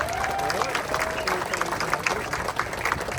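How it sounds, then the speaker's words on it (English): A sponsors-and-winners gathering for the Cypress Challenge, where an audience claps steadily for a few seconds, a dense patter of hands with tonal voices and cheers mixed in. "So can we give them a huge round of applause?"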